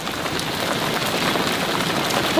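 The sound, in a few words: heavy rain falling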